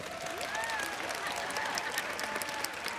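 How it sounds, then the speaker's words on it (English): A live audience at a faith talk claps together in a sustained, dense round of applause that holds steady for a few seconds, with some crowd voices mixed into the clapping. "Give me some claps for mysterious ways."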